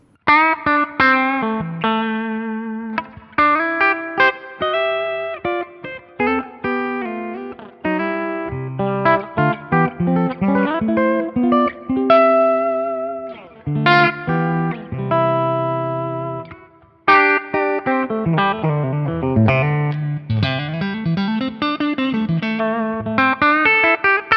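Saito S622 electric guitar through distortion on its full bridge humbucker, a loud, close run of quick melodic lead lines and bends with a brief pause midway, played alone with no talking.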